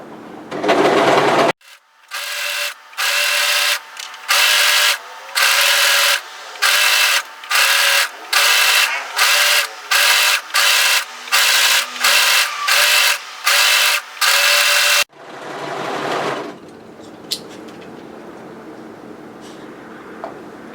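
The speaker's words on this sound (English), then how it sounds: "we're going to overlock that together" An overlocker stitches two fabric pieces of a long-line pleated hoodie in a rapid run of short bursts with brief pauses between them, close and loud, with handling noise before and after.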